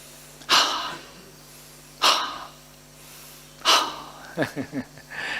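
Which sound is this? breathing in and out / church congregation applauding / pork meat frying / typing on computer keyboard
breathing in and out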